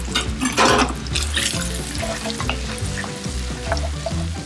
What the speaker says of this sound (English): go ahead and get in there with that andouille. Keep that frying.